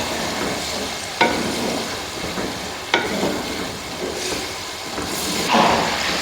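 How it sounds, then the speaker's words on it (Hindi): Dal being added and stirred in a pan for dal keema sends up a soft sizzle with scraping stirs and a few sharp clinks of a spoon against the pan, fairly faint and close. "ये मैं इसमें दाल डालनी शुरू करती।"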